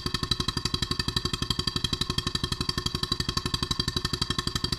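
Refurbished Stuart 7A steam engine assembled, mounted and plumbed, running at 360 RPM: a fast, perfectly even train of chuffing exhaust beats over a steady mechanical hum, close and loud.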